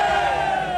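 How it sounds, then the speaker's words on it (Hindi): Rally crowd in Bihar making a sustained, dense roar of cheering and clapping during Manoj Tiwari's speech, loud and steady for under a second with no break. "भाषण के बीच बीच में तालियां भी बजती हैं"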